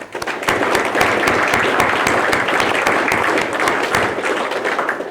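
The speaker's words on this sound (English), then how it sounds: "let's give all of these students and the partners, judges, everybody that I have mentioned, a round of applause" Audience at a tech symposium applauding students, partners and judges, a loud, sustained round of many hands clapping that swells quickly and holds steady before tapering slightly at the end.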